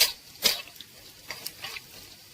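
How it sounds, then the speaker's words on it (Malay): Anchovies deep frying in hot oil, with sporadic crackles and faint sizzling bursts close by, some louder pops early on against a quiet background. "First, I'm going to fry the anchovies."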